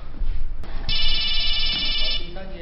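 A telephone rings once in a long electronic trill lasting about a second, with muffled voices and room noise before and around it.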